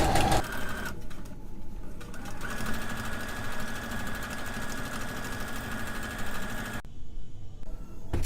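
Sewing machine running steadily while stitching a fabric pouch, forward then backward then forward again, a continuous close mechanical whir with brief pauses in pace, stopping near the end.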